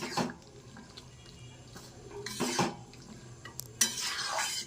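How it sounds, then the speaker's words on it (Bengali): Vegetables coated in spices are stirred in a pan, giving intermittent scraping and clinking bursts of spoon against metal between quieter stretches, with soft wet frying underneath. "এবার ভালোভাবে সমস্ত কিছুকে মশলার সাথে আরও কিছুক্ষণ কষিয়ে নেব।"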